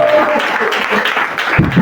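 A church congregation claps and applauds in a dense burst that fills the room, with voices calling out over the clapping.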